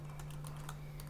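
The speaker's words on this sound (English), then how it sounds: "By pressing the T on the keyboard, we are just typing the text here" A computer keyboard clicks under quick, uneven taps, roughly a dozen light keystrokes over a constant low electrical hum.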